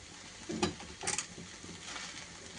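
Cooked rice being stirred into a frying mixture in a pan, with faint scraping and a soft sizzle, including a couple of brief clattering scrapes against the metal.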